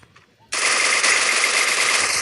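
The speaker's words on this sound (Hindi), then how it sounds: "और फिर एक बंदा मेरे पे फायर करता है" Loud, close automatic gunfire from the Free Fire battle royale game: after a brief quiet moment a dense, unbroken rapid burst erupts and keeps going to the end.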